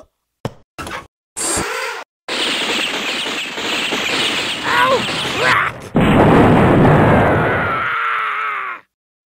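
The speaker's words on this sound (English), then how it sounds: "I'm about to send some missiles flying." In the video game Cheat Commandos, missiles launch and explode as loud overlapping booms, whooshes and bursts that build into a sustained roaring blast before cutting off abruptly.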